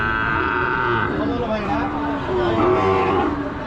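A Brahman calf at a busy cattle market gives low drawn-out moos and grunts amid constant crowd noise and people talking nearby.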